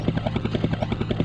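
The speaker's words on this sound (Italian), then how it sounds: "L'elicottero è equipaggiato con il mio nuovo cannone spara pomodori." Helicopter in the PS1 video game 102 Dalmatians: Puppies to the Rescue, heard as a quick, steady rotor chop that pulses rhythmically and loops for just over a second.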